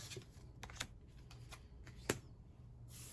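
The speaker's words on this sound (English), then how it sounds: "I'm going to go ahead and clear the table and move on to this next card" Tarot cards gathered off a table and shuffled, giving soft papery riffles and light slaps in brief bursts, with one sharper snap near the end, all quiet and close with no talking.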